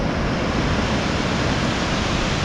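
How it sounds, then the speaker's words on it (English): Rushing river rapids in Ausable Chasm, heard from a bridge above, a steady broadband roar of churning water that holds constant and loud throughout, with no voices. "There's rapids in the water down there."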